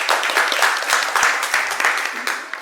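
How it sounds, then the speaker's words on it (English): An audience at an art talk on art conservation breaks into a warm round of clapping, a dense, continuous patter of hands that holds steady throughout and then begins to thin slightly at the end. "Let's all give a warm round of applause to Mr."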